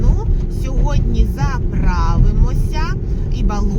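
Steady low engine and road rumble inside a car driving home from a shop, continuous throughout, with people talking over it.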